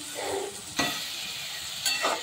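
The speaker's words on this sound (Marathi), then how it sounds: "टमाटा आणि कांदा आपल्याला एकदम व्यवस्थित मऊ असं भाजून घ्यायचं आहे।" Tomato and onion with coriander cooking in a pan, giving a steady broadband sizzle with a couple of sharp stirring scrapes, close and moderately loud, with no talking.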